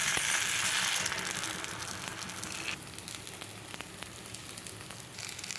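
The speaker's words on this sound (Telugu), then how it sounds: "ఇప్పుడు పిండి వేసుకుందాం." Jowar flour batter goes into a hot ponganalu pan, starting with a loud sizzling hiss that gradually fades into quieter crackles and small pops, close up, with no one talking.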